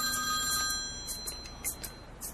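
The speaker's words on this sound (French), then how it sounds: "C'est ma mère qui m'appelle, je suis désolée" A phone rings with an incoming call, a bright electronic ringtone sounding in repeated short pulses, close and clear with no one talking.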